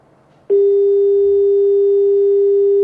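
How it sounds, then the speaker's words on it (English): A steady telephone dial tone on an open conference call line begins abruptly and holds loud and unbroken, with no talk over it. "It just sounds like the dial tone."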